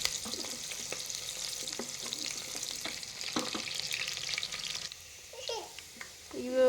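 Sliced onions frying in a pan, a steady sizzle with scattered stirring clicks that drops away near the end, followed by a brief tonal squeal and knock.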